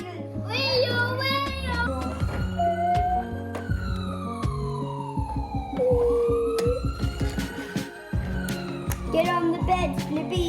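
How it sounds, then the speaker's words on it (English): Toy ambulance siren wailing with rising and falling electronic tones over a beeping, rhythmic toy-vehicle tune, loud and close, with brief child-like voice snippets mixed in. "Someone call for an ambulance!"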